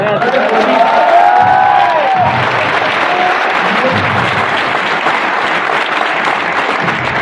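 A large audience at a Vestige business seminar breaks into loud, sustained applause with cheering and a few whoops, a dense roar of clapping that carries on steadily throughout, with a voice briefly heard over it early on.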